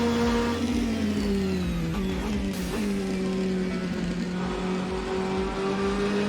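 An LM Hypercar A480 engine in the Assetto Corsa racing game drones loudly and steadily, its pitch dipping and rising gently as the car is pushed around a track, with no voices over it.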